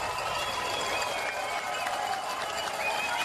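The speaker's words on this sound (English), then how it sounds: "Deserves the applause." A crowd at a ski jump applauds, a steady wash of clapping heard from some distance, fairly faint and even throughout.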